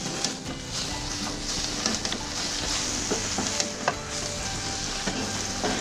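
Cabbage being stir-fried with oyster sauce and sesame oil is stirred in a pan, with a steady sizzle under irregular scraping and light knocking of the utensil against the pan.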